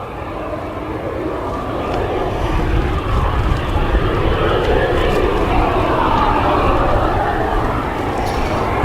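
An airplane at Leeds Bradford Airport gives a loud, steady engine roar that holds close and continuous for the whole stretch, swelling slightly in the middle before easing.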